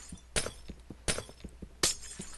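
Glass blocks breaking in Minecraft, three sharp shattering crashes spaced about a second apart, each a bright burst with brief clinking debris between, loud and close with no voices.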